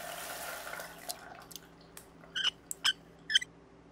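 Water trickling and dripping from a tap in a bathroom, soft and close, with a few brighter splashes and drips toward the end and no voices.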